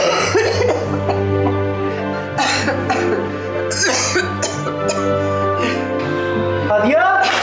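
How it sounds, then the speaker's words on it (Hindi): Repeated coughing fits from a person at home, loud and close, over a steady low hum and a sustained tonal background, with brief voice sounds between the coughs. "खांसी आ रही"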